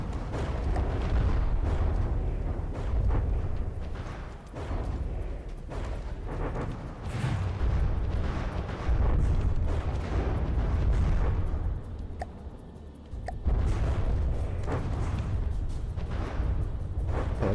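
Gunfire and explosions from a naval battle in From the Depths: steady, dense booms and bursts with rumbling blasts layered over one another, a short lull partway through, then the barrage resumes.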